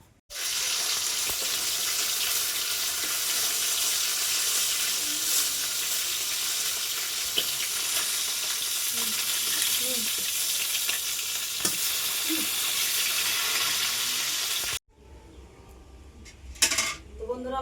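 Leafy greens cooking with small fish in a pan: a loud, continuous sizzle with occasional stirring clinks runs for about fifteen seconds, then cuts off into quieter kitchen sounds.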